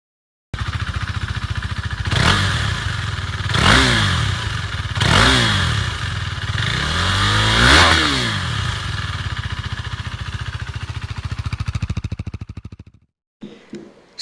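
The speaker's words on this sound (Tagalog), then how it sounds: "So let's try first the all-stock exhaust system." A KTM Duke 390 on its stock exhaust system idles, then revs four times in quick swelling blips, close and loud, before settling back to idle and cutting off.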